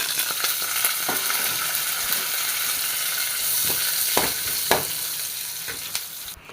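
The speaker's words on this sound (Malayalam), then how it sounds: "ഇതാ ഒരു ചീനച്ചട്ടി എടുപ്പത്തി വെച്ചു രണ്ട് ടേബിൾ സ്പൂൺ ഓയിൽ ഒരു സവാള ഇഞ്ചി വെളുത്തുള്ളി പേസ്റ്റ്" Onion and ginger-garlic paste fry in two tablespoons of oil in a pan, giving a loud, steady sizzle with occasional sharp clicks of stirring and no talking.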